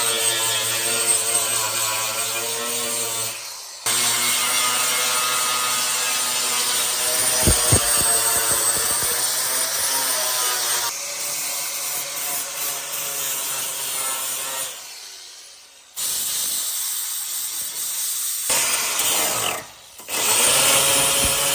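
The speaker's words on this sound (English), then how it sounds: "Just nice little flap disc on the grinder" An angle grinder fitted with a flap disc smooths steel weld repairs on rusted panels of an R33 Skyline, giving a loud, steady abrasive whine that runs nearly the whole time with a few short breaks where the disc lifts off.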